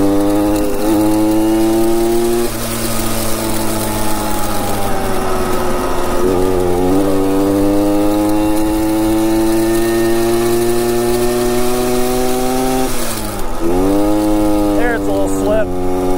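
A 1966 Harley-Davidson Aermacchi M50S motorcycle engine with a slipping clutch runs loud and close, holding a buzzing, steady drone with repeated rev rises and dips.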